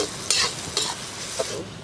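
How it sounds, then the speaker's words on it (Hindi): Soybean chunks fry in hot oil at close range, a continuous sizzle broken by three sharp scraping stirs of a utensil against the pan, with no talking. "अब तेल गरम हो गया था मेरा, सोयाबीन को इसमें फ्राई कर लेती हूँ हल्का सा"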